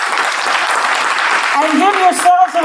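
An audience at a city commission candidate forum hosted by former mayors claps steadily and fairly loudly, with a voice rising over the applause near the end.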